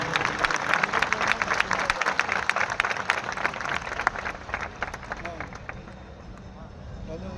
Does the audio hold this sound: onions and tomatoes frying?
no